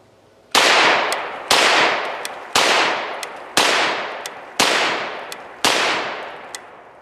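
Six loud 9mm gunshots from a Pivot ultra compact folding rifle, evenly spaced about a second apart, each a sharp crack with a ringing decay outdoors, and no talk.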